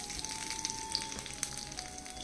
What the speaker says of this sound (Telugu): అన్ని చక్కగా వేగిపోనియండి ఇప్పుడు ఈ పోపు తీసుకెళ్ళి పప్పులో వేసేసుకోవాలి